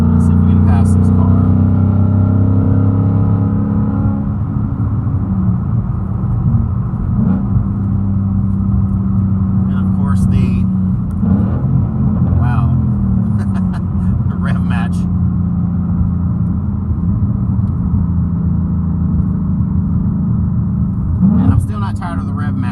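A Ford Mustang Bullitt V8 driving on the road with a steady loud engine drone and rumble, rising revs and a few throttle blips, heard from inside the car.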